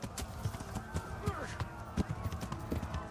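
Horse hooves in the Kingdom Come: Deliverance video game make a quick, regular clip-clop as the horse moves along at a run, mid-loud, with someone talking over it.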